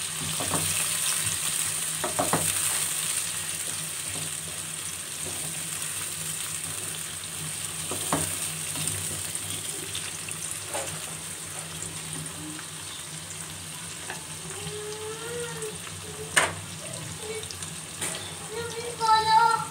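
Chopped onions fry and brown in a pan with a steady close sizzle, with occasional clicks and scrapes of stirring and a brief sharp knock near the end, without any talking.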